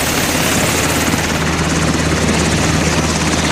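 A rescue helicopter arriving at a military casualty scene in Kandahar, Afghanistan, its steady rotor chop and engine roar loud and close throughout, with no other sounds over it.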